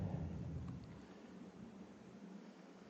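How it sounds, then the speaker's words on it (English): Low rumbling thunder rolls through a heavy Florida rainstorm, with steady rain hiss behind it, fairly faint and distant, easing after the first second. "you might be hearing some thunder and rain"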